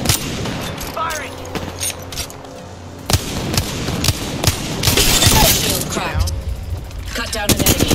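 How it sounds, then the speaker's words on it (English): Video game gunfire in Apex Legends, with bursts of rapid automatic shots and sharp cracks mixed with game effects and a voice speaking. "Target spotted. Right here. Opening fire. Firing."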